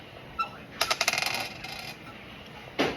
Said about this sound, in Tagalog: roll the dice, Adri